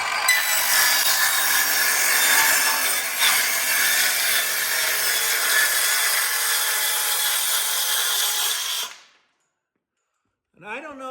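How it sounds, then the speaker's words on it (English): A circular saw rips another half inch off a wooden board, the blade whining loudly and steadily for about nine seconds before cutting off abruptly, followed by a short spoken comment. "let's go ahead and cut another 1/2 inch off of this"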